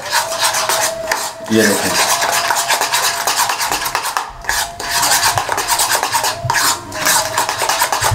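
A spoon scrapes and rasps steadily around a bowl while mixing burger sauce with black pepper, loud and close, with brief pauses; someone speaks briefly near the start.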